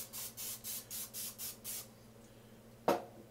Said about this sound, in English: Do need to do a little bit of spray.